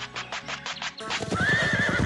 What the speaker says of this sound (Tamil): அச்சச்சோ, குதிரைங்க வர சத்தம் கேக்குது.